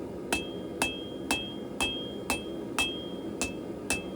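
Hammer blows on hot steel while forging a small knife, eight sharp metallic strikes in a steady rhythm about half a second apart, each with a brief ringing tone, close and clear over a low room hum.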